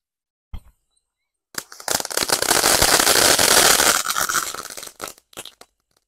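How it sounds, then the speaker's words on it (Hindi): A Diwali firecracker being tested: a brief scratch of lighting, then a loud continuous crackling and hissing burst for a few seconds, ending in scattered pops. "अब लगाते हैं सुनिंदा वाले के अंदर आग और देखते हैं सुनिंदा वाला चटरपटर कैसा चलता है"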